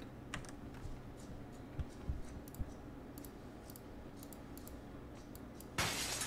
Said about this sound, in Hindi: तेरे मैकेनिकल कीबोर्ड का यहाँ तक साउंड आ रहा है